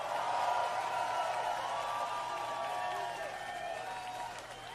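An outdoor concert crowd at a rock show in a central Rio de Janeiro square claps in a broad, sustained wash of applause that slowly fades, with faint cheering mixed in.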